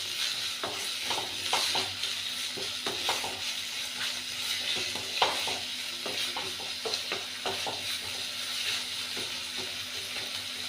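A spoon scrapes and stirs food in a hot pan, with repeated irregular clinks and scrapes over a constant sizzle of frying; close and moderately loud, no talk.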